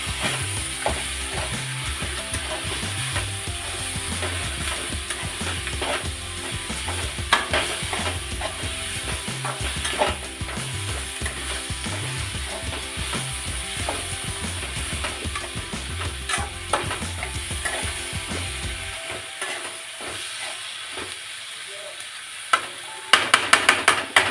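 Pre-roasted okra stir-fried in a hot pan, with a steady loud sizzle and rapid scraping and clattering of a spatula against the pan for about nineteen seconds, then quieter scattered scrapes and a few sharp knocks at the end.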